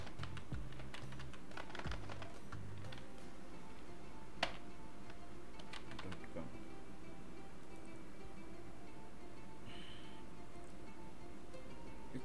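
Faint computer keyboard typing in a quiet room, irregular clusters of soft key clicks spread across the stretch with a few louder taps and low background hum.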